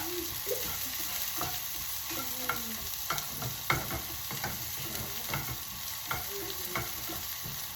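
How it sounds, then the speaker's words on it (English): Onions sautéing with garlic in a pan, a steady broadband sizzle broken by frequent scraping stirs and utensil clicks, close and continuous with no voices. "So I'm going to add my onions. Give a nice stir."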